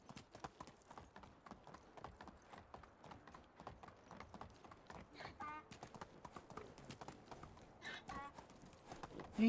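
Donkey hooves clip-clopping in a quick, uneven patter of light knocks throughout, with faint background sounds mixed in.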